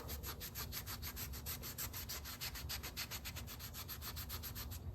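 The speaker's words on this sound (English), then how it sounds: "clean off any oil" Rapid, steady rubbing strokes, a napkin wiping oil back and forth off a hard engine surface, close and continuous with no talking.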